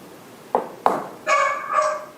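Dog barking during a village committee meeting, two sharp barks followed by two longer, whining yelps, fairly close and loud, with no one talking.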